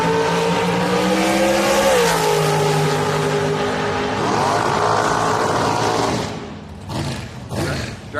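A dragster roars down the strip at Houston Raceway Park during a bracket race, its loud engine note holding and then falling away as it passes, followed by quieter crowd and background noise.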